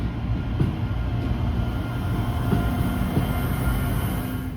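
A train rumbles past near Thonon-les-Bains, a continuous low, heavy roar with faint rail clatter holding steady throughout, with no voices.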